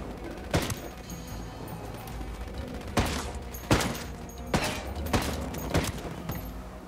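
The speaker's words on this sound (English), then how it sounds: "I'm opening fire." Repeated bursts of gunfire in the tactical shooter Ghost Recon Wildlands, with several sharp loud volleys spread across the stretch over a steady game background, and no talk.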